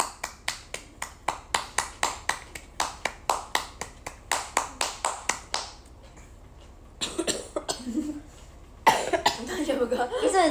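A young woman claps her hands while eating gyoza, a run of about twenty sharp, evenly spaced claps close up for five seconds, then a quiet pause before muffled rustling and talking.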